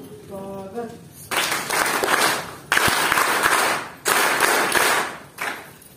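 An audience at a taluka-level meeting in Sindkhed Raja claps in three loud, sustained bursts of applause, each lasting over a second with brief pauses between, following a short stretch of tonal sound at the start.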